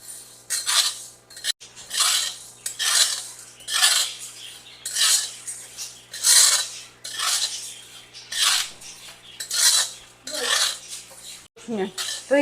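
Cumin and black pepper dry roasting in a pan, stirred with a rhythmic series of about ten scraping, rasping sweeps of a metal utensil across the pan, close and fairly loud.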